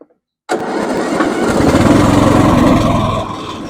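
An old Ariens riding mower engine, left sitting for years, fires up abruptly after a moment of silence and runs loud and close with a rough, steady mechanical roar, easing off slightly near the end.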